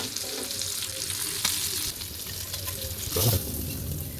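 Pieces of chicken fry sizzle steadily in a pan over a low to medium flame, making a continuous, close crackle with a brief louder spatter near the end and no talking.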